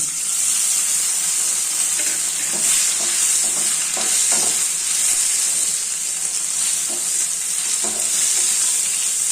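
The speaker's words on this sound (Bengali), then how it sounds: "এই পনিরগুলো এখন আমি ভেজে নেব হালকাভাবে" Paneer pieces lightly frying in salted oil in a frying pan, an even hissing sizzle throughout with a handful of soft stirring clinks midway, close and alone without speech.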